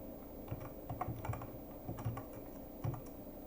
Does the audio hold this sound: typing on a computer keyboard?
yes